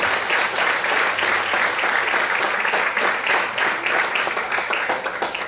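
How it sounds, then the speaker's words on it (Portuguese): A church congregation claps louder and harder, a thick, sustained roar of many hands lasting several seconds with no voices on top, easing off slightly at the end. "Mais fortes as palmas, aleluia."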